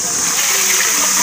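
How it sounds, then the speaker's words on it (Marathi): Water gushes with strong force from a pipe into a metal pot in a foggy village yard, a loud, steady rushing torrent that fills the whole moment on its own. "बघा किती फोर्स आहे पाण्याला."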